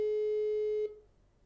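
A single steady telephone tone sounds while placing a call, loud and close, holding for almost a second before cutting off and leaving only faint background.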